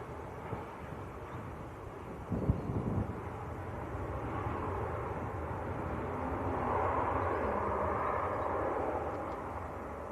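An EasyJet airliner from Geneva at Manchester Airport gives a steady, distant jet roar that swells and broadens partway through, with wind buffeting the microphone and a brief knock early on.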